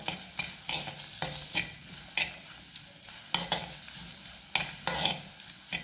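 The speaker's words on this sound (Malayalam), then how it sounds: "അപ്പം മാങ്ങയും ഇതിൻ്റെ കൂടെ ഒന്ന് മൂപ്പിച്ച് കൊടുക്കാം" Raw green mango pieces sauté in hot oil in a pan, with a steady sizzle broken by repeated scraping clacks of a spoon stirring, close and fairly loud, no voices.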